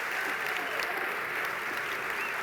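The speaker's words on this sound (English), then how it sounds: "Could we have a round of applause for a wonderful author, Judy Blume" An audience at a literary awards event applauds a wonderful author, a dense, steady clapping sound filling the whole stretch without pause.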